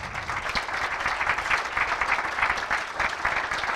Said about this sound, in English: A huge, huge, huge round of applause to our esteemed guests.